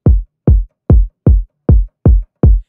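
Seven evenly spaced trap kick drum hits processed with a transient shaper in FL Studio, each a punchy, snappy attack falling into a short deep boom, loud and alone with no talking.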